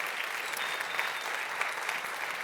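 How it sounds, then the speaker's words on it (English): Conference audience at a product strategy summit applauds a speaker, a steady, moderately distant crowd clapping without gaps. "A big applause for David Pereira."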